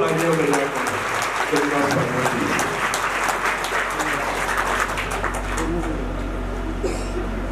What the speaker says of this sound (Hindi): एक बार उनके लिए बहुत जोर से तालियां बजाएं।